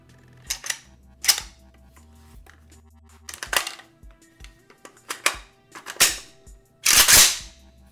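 An AK rifle reload sound effect performed up close for ASMR: a series of sharp mechanical clicks, clacks and metallic snaps at irregular intervals, ending with a louder, longer rattling clack, no speech.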